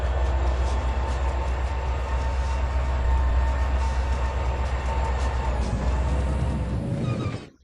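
A train in the Trainz 2022 video game reverses with a steady low rumble and rolling wheel noise, loud and continuous, then cuts off abruptly near the end.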